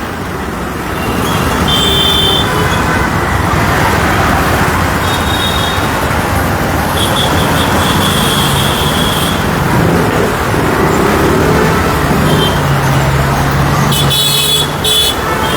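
Dense road traffic on a street in Chandivali, Mumbai, lined with roadside garages and vehicles parked crosswise: a steady, loud roar of engines and tyres with occasional horn toots and no talk.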